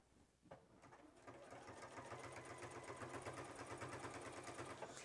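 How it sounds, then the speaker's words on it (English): A Juki HZL-F600 sewing machine stitches through four layers of heavy denim, a quiet rapid mechanical clatter that starts slowly and builds into a steady fast rhythm. "when you're sewing through bulky layers"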